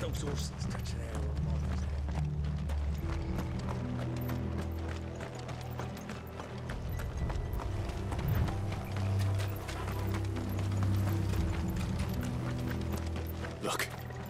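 Horses gallop in Final Fantasy 16 with steady, rapid clip-clop hoofbeats over a dense game score, with voices speaking over the action.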